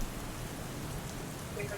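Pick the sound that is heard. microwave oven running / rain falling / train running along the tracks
rain falling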